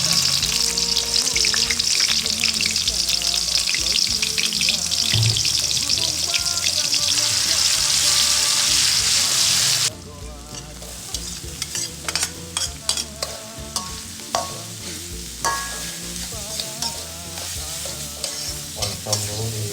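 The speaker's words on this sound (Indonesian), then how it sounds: "Oncom dulu digoreng kawan-kawan sebelum gajalnya dimasukin ya." Oncom, a fermented Sundanese soybean cake, fries steadily in a pan at close range, with dense crackling sizzle and the scrape of stirring; the frying grows sparser and crisper after the midpoint, popping in irregular bursts.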